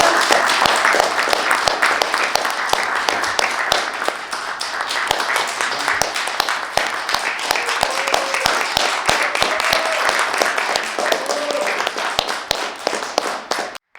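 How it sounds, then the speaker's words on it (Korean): Applause from an audience at a political party event in Korea: dense, steady crackling claps that last about fourteen seconds at moderate volume, with a few faint voices underneath. "박수로 응원해 주시기 바랍니다."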